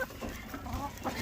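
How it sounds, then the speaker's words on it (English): Chickens clucking together in a farmyard flock, a soft, busy murmur of overlapping clucks heard from close by. "We have a lot of chickens."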